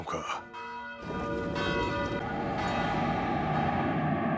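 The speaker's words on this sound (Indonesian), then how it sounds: "Bel tanda bahaya kini dibunyikan agar semua orang menutup pintu rumah dan jendelanya." An alarm bell is sounded as a warning for people to shut their doors and windows, ringing loud and continuously with layered metallic tones that build and sustain over the whole stretch.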